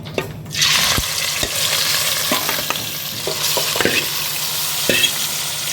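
Marinated chicken hits hot oil with a loud sizzle, then fries steadily close by while a utensil stirs and scrapes the pan in scattered knocks.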